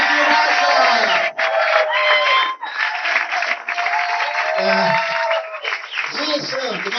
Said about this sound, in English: A round of applause for Marshall.